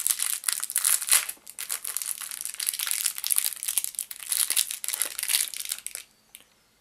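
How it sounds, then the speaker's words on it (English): A collectible pin pulled from its crinkly plastic packaging, with close, continuous crumpling and crackling for about six seconds before stopping. "Let me take that out of the packaging."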